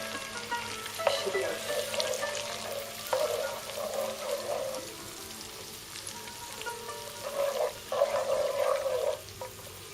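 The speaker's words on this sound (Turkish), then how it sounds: "Görüldüğü gibi malzemelerimiz kaynamaya başladı" A butter and honey mixture with almonds bubbles and sizzles softly in a pan for güllabiye helva, in quiet bursts of crackling with pauses between them.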